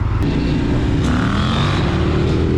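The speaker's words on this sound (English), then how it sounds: "Brooks, do a fat ass wheelie coming out of here." A KTM 890 motorcycle engine roars loudly and steadily up close as the rider pulls a wheelie, a constant dense drone with wind rush and no break.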